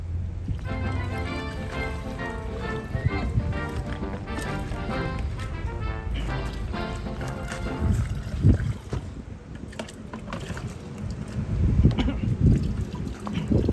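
Water pouring into a container near a Robin water pump, a steady broadband splashing and trickling rush lasting throughout with some engine-like harmonic tone early on, fairly close and continuous.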